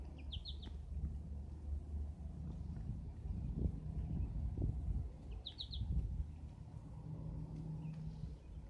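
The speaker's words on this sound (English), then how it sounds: "I think the bird scared him that time." A bird gives two quick, faint, high chirps a few seconds apart over a low outdoor rumble, heard from some distance with no one talking.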